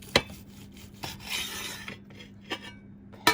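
Knife sawing through microwave-roasted butterflied lamb cooked in a Tupperware MicroGrill, giving close rasping scrapes with a few sharp clicks of the blade against the dish between strokes.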